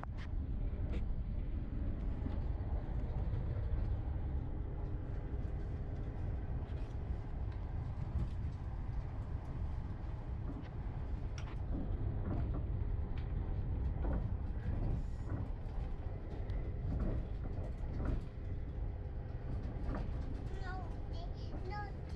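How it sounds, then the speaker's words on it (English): Steady low rumble of a moving train in Innsbruck heard from inside, with occasional rattles and clunks over the continuous drone. "On the train."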